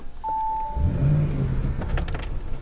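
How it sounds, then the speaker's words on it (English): A 600-horsepower Audi Q7 starts from its push button: a soft chime, then the engine catches with a low gurgling rumble that settles into a steady idle, close and alone. "You hear a little bit of a gurgle as it turns on."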